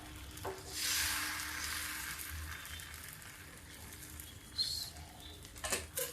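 Sweet chilla batter cooking on a hot pan over low gas, a soft crackling sizzle that swells early, settles to a quiet hiss, then pops a few times near the end.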